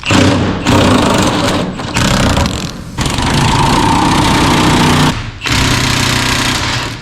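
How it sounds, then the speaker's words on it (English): An air tool removes truck bed bolts on a 1987 Chevy K10 squarebody: loud, close rattling bursts of a few seconds each, separated by brief pauses. "Just pull these 8 bolts out"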